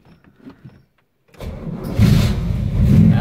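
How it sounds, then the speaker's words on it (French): A Pontiac Firebird 400 V8 with exhaust cutouts cranks and fires up: quiet clicks of the key, then the starter catches and the engine roars to life and settles into a loud, rumbling idle. "Et là, si tout va bien, ça démarre beaucoup mieux."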